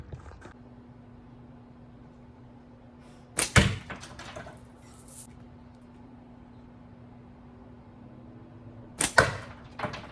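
Two sharp slingshot shots at lighters hung on a spinner in front of a catchbox, each a snapping release and smack with a brief rattle, spaced several seconds apart over a low steady hum.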